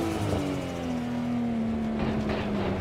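A race car engine in the Assetto Corsa video game drones steadily at high revs, loud and continuous with a slowly falling pitch, heard alone.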